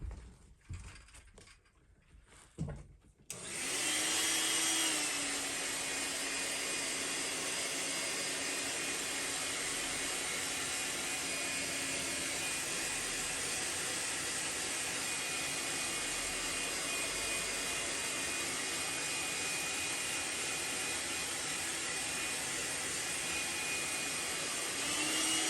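A heat gun heat-sets paint on a fishing lure: after a few clicks and handling noises, a loud, steady blowing roar with a constant whine starts and runs uninterrupted for more than twenty seconds, close by.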